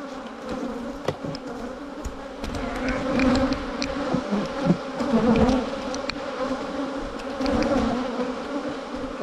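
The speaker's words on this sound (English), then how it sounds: "A lot of bees on the side of the box there." Honey bees swarm around an open hive box in a strong colony, a dense, continuous buzzing close by with individual bees droning past in fluctuating waves.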